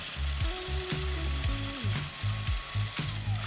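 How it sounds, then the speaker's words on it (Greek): Roasted hazelnuts are ground in a food processor, the motor whirring in a run of short bursts, each spinning up and cutting off, as the nuts rattle and break down into a coarse powder nearby. "θα χτυπήσουμε μόνο τον ξηρό καρπό μέχρι που να σπάσει και να γίνει σαν σκόνη"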